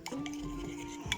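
A spoon stirs a mixture in a pot after a little water has been added, giving a brief scraping swirl with light clinks against the pot, close and alone.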